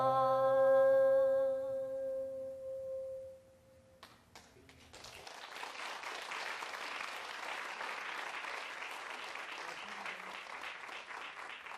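An audience at a Korean traditional music concert bursts into applause after a sustained tone fades, many hands clapping steadily and evenly at a moderate distance.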